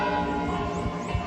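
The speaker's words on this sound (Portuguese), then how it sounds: "Ao meio-dia, sinos de igrejas e catedrais de diversas partes do país tocaram juntos para lembrar as mortes causadas pela doença." Church bells rung at noon in Brazil in tribute to those who died of disease, a dense, sustained metallic ringing with overlapping tones that fills the whole short moment.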